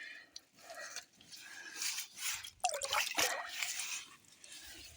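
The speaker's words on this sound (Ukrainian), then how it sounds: "Дощ пішов." Rain drips and patters steadily in an evening vegetable garden among tomato plants, with occasional louder drops landing close by and no one talking.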